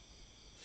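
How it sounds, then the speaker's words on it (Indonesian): Steady cricket chirping fills the background, a continuous high insect trill at moderate level with no voices over it. "Jangkrik gitu nya."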